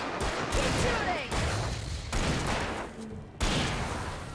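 Rapid bursts of gunfire in the video game Alan Wake, repeated volleys cutting in and out over a few seconds, loud and close with some background voice.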